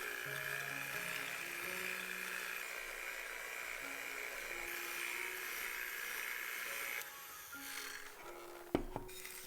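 Electric mixer running at medium-low speed through cookie batter for double chocolate skillet cookies, a steady whirring drone that shifts near the end, with a brief knock.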